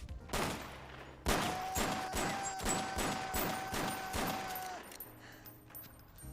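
Rapid bursts of gunfire from a shootout scene in the comedy film Superbad, loud and close, with a sustained whistling tone running through the volley before it tapers off.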